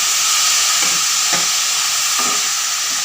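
Oyster mushrooms frying in a covered pan, giving a loud, constant hissing sizzle with steam-like noise and a few faint knocks, close and uninterrupted without voices.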